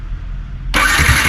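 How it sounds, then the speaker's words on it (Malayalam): A KTM-style motorcycle engine, just fitted with a new spark plug, cranks and catches abruptly, jumping from a low hum to a loud, steady, close idle with no speech. "സ്റ്റാർട്ട് ചെയ്ത് നോക്കാം."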